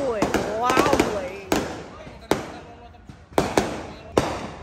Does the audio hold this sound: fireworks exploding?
yes